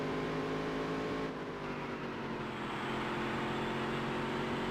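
Race car engines in the Dirt to Daytona video game drone continuously, with steady engine tones and a brief dip before the sound swells again, moderately quiet and without voices.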